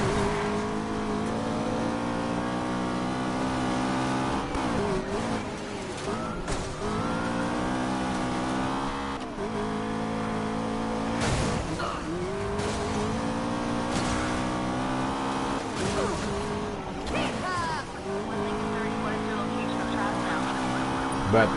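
A BMW engine in Need for Speed Payback revs hard through repeated rising and falling accelerations, loud and continuous, while someone talks over it.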